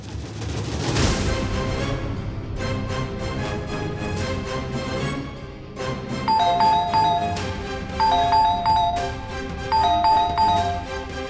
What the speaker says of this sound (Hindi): घंटी कौन बजा रहा है?